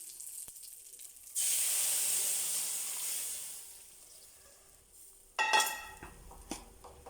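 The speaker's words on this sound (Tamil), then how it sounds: "இது ஒரு 2 நிமிஷம் கொதிக்கட்டும்." A loud hissing, steaming sizzle rises suddenly and slowly fades, followed by a sharper burst of bubbling and spattering near the end.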